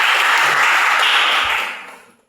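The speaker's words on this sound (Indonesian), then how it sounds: "Sekali lagi berikan tepuk tangan untuk kedua kelompok." Audience applause for two groups after a classroom presentation, a dense steady wash of clapping for about a second and a half before fading out.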